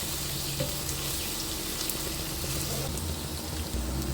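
Okra (bhindi) frying in a pan over low heat: a steady, close sizzle that runs unbroken throughout, with no talk.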